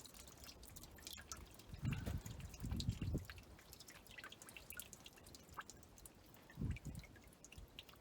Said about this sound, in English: She's dripping out real nice.